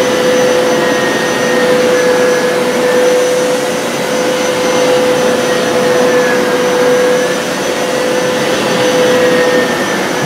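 A Hoover PowerScrub XL Pet FH68050 carpet cleaner runs continuously at close range, a loud steady motor whine with a sustained high tone and faint wavering, with no talking.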